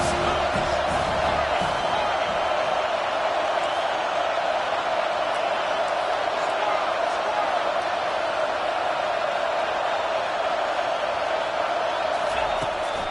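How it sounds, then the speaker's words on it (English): A stadium crowd in the NCAA CFB 25 college football video game roars steadily behind the defense on third down, a constant dense wash of cheering under play-by-play commentary. "Big third down as the crowd gets behind this defense."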